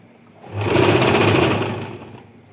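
Sewing machine stitching a folded fabric round neckline, one steady whirring run that rises, holds for about a second and a half, then winds down, close and loud with no talk.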